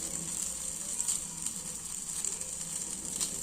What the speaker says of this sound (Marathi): डिश आपण बॅटर टाकून घेऊया। बघा बॅटर टाकत आहे